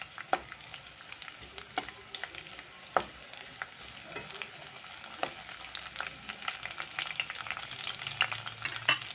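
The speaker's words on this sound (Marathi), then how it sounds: "लालसर होईपर्यंत भाजूया" Garlic cloves frying in a pan on low heat, a soft steady sizzle with irregular scraping clicks from stirring, close and unaccompanied by any voice.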